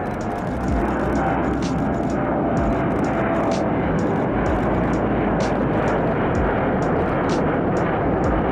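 A Boeing E-6 aircraft departs the airport with a loud, continuous roar of jet engines that holds steady, with faint rhythmic crackling over the top.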